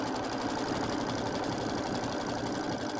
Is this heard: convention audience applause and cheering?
no